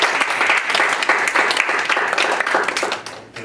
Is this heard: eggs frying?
no